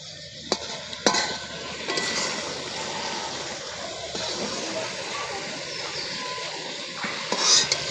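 Eggplant and mutton curry (begun khasi) cooks in a pan with a steady sizzling hiss, broken by a few sharp utensil knocks and scraping stirs near the mic.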